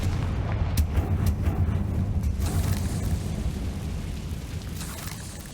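A Confringo fire spell explodes in the Hogwarts Legacy video game, giving a rumbling, booming blast with a sustained low roar and crackling debris that slowly fades.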